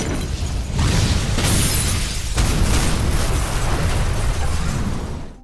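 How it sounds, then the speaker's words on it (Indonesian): A loud explosion roars and rumbles on, a sustained blast of noise that stays heavy before fading out at the end. "ledakan terjadi."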